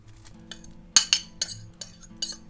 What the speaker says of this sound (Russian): Мясо также отправляем в кастрюлю.